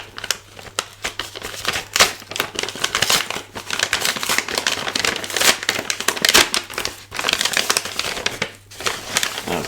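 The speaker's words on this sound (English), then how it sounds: "Let's start with opening the envelope." Paper crinkles and tears as a mail envelope is opened, with dense, close rustling and crackling bursts continuing for several seconds with brief pauses and no voices.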